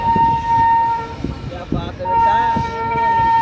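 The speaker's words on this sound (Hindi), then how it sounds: "कोई ट्रेन जा रही है" A train passes through Bareilly Junction station with a loud, continuous rumble and sustained horn tones that briefly drop away midway.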